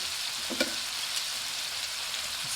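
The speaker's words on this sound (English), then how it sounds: "we're just going to cook these till they start turning pink" Shrimp frying in a pan for a creamy garlic parmesan dish, giving a steady soft sizzle throughout with a brief louder spatter near the start and faint clinks, no talking.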